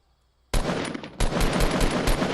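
Assault rifle fire in Fortnite Battle Royale comes in loud, rapid automatic bursts after a short quiet moment, with two brief gaps between them.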